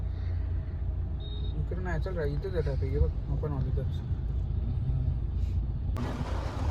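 Vehicles stuck in a road traffic jam on the way to Ekvira: a steady low engine rumble of idling and creeping cars and buses, with people chatting nearby through the middle of it.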